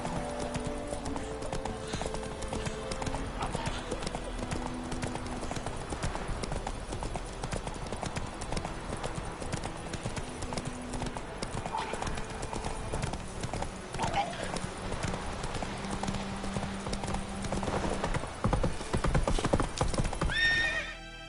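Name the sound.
horse Roach trotting, from video game The Witcher 3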